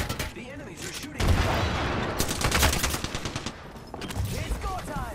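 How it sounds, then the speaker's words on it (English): Rapid bursts of automatic gunfire from enemies in the battle royale game Apex Legends, dense overlapping shots that crackle almost continuously and swell louder after the first second, with a brief lull before a final flurry. "The enemies are shooting."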